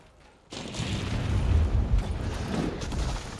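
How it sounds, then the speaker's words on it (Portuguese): A deep boom from an explosion in the video game Monster Hunter World hits suddenly after near silence, then a dense rumbling roar lingers at steady loudness. "eu acho que caiu a explosão, não sei se você viu."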